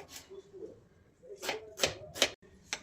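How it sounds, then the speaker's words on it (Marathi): A knife chops a tomato on a board with several crisp, close strikes clustered toward the end over faint background noise. "टोमॅटो पण कापून घेणार आहे."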